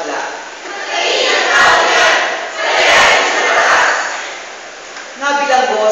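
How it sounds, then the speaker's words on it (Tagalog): A crowd in a Palm Sunday Gospel dramatization shouts together in a church parish, loud swelling waves of voices rising and falling, then a few individual voices near the end. "Subalit sabay-sabay na sumigaw ang madla."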